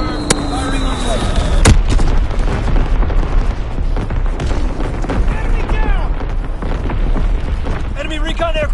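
An artillery battery fires in a PS4 video game, producing heavy booms and rumbling blasts over a constant din of battle noise, with game voices talking over it.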